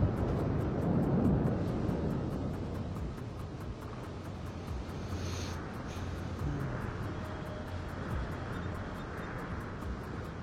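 A spotter plane flies in a naval combat video game, giving a steady engine drone with a broad rushing roar that holds at fairly even loudness throughout, with no talk.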